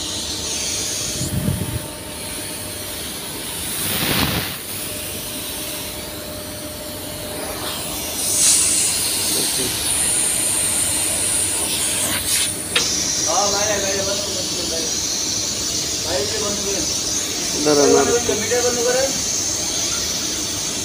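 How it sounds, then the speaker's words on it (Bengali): Refrigerant gas hisses steadily out of an automobile air conditioner's discharge line being released for repair, a continuous broadband rush lasting throughout, with brief louder bursts and faint squeaky tones mixed in. "ডিসচার্জটা ছাড়লাম, তার মানে গ্যাস আমার এই যে বের হচ্ছে।"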